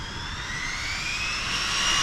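An electric 80 mph RC truck's motor at half throttle gives a steady, loud high-pitched whine with rising tones that climb slightly as it runs, continuous with no talking.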